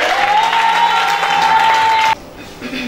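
A church congregation applauds and cheers for the Lord, a dense, loud wash of clapping with a sustained voice rising over it, which then cuts off abruptly.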